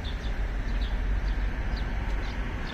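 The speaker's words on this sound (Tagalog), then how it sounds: "Ang daming ibon, oh." Many birds in a city street in Tallinn, Estonia, giving short, high chirps repeated at intervals over a steady low urban rumble, faint and somewhat distant.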